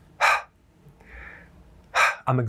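A person imitates fast, stressed breathing, making two sharp, loud, breathy huffs about two seconds apart with a softer hiss between them, then a short voiced sound at the end.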